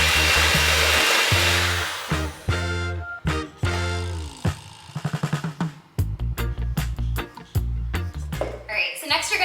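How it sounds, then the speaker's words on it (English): A hand mixer whirs loudly as plantains are beaten into chocolate chip plantain bread batter, its motor stopping and starting in short bursts with pitch shifts as it churns. "then you're gonna mix this together just until it's all combined"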